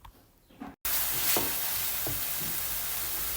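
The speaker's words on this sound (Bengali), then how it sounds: "এরপর মশলাগুলো একটু কষিয়ে নিব ভালোভাবে।" Garlic and cumin paste with spices frying in a pan, a broad steady sizzle that jumps up suddenly after a quiet start and holds loud, with a few scraping stirs.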